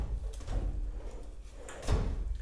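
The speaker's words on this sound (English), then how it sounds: "Drawers really nice and smooth." Drawers of a Husky 52-inch 9-drawer mobile metal workbench slide open and shut with soft, smooth rolling rumbles and a muted stop near the end, heard up close with no talking.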